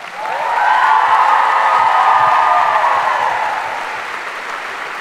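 Applause from a church audience at a parish choir concert of Polish songs, a dense wash of clapping that swells quickly, holds, then thins toward the end, with no speech.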